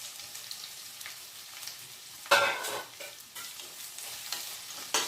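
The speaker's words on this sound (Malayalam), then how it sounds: "സവാള നന്നായിട്ട് വഴറ്റാം" Small chopped onions sauté in coconut oil in a pan, a steady close sizzle with a loud burst of frying and stirring scrapes partway through, then continued hissing.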